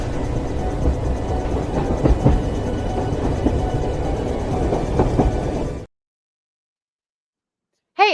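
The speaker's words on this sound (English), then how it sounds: "I will grab the haunted train to pick our new members up on the way to Speculation Station." A haunted train rumbles and clatters steadily at a moderate distance for several seconds, then cuts off abruptly into silence before a brief tonal blip.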